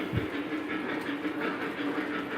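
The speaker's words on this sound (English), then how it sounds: "It's kind of hard to run trains on a single line, multiple trains" An O-gauge model train rolls along its track on a home layout, a steady close rumbling hum with light rhythmic clicking from the rails, continuous and without voices.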